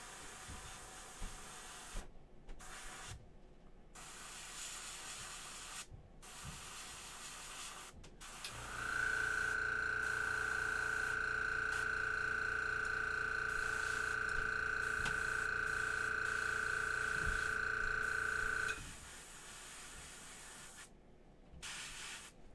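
An airbrush sprays paint onto a McFarlane Hellblaster Primaris marine figure, a steady, loud hissing jet with a whining tone that runs for about ten seconds, framed by quieter pauses and short bursts.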